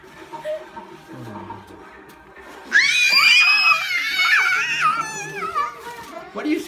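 A young child lets out loud, high-pitched screams during a playful dance session at home, a sustained shrill burst lasting a few seconds after quieter murmuring, close and loud, with other voices around it.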